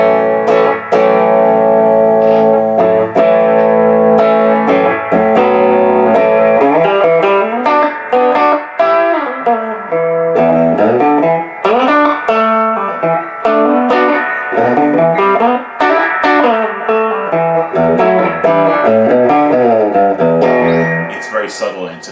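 Electric guitar through a Paul Cochrane Timmy V2 overdrive pedal with gain at about nine o'clock plays a loud, lightly crunchy run of chords and single notes for over twenty seconds, with no voice heard.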